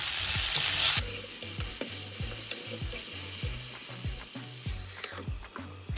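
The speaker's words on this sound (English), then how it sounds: "Stir it gently so that the potatoes don't break." Potato pieces frying in oil over medium heat as a spatula gently turns them, giving a continuous soft sizzle with a regular series of clinking, scraping stirs up close.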